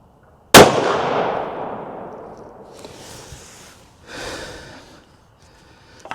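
A single sharp, loud rifle shot from a Faxon FX7 in 8.6 Blackout firing full-power 220-grain loads, followed by a long decaying boom and faint rustling afterward.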